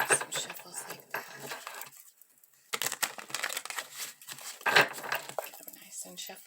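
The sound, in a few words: tarot cards being shuffled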